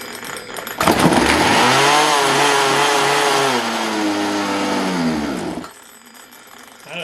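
A Craftsman 42cc chainsaw sputters to life suddenly and runs loud and close for several seconds, its revs wavering unevenly before the engine dies off, leaving a quiet room.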